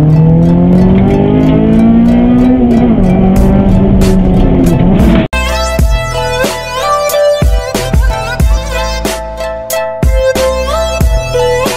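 A 1990s Honda Civic VTEC engine revving hard, a loud continuous roar with rising and falling pitch, then a sudden cut to a busier mix of engine tone and rhythmic pulsing, all close and dominant.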